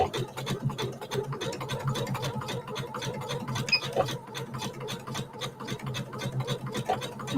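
A sewing machine backstitches over a rope loop, its needle running in a rapid, steady mechanical clatter close by, with no voice over it.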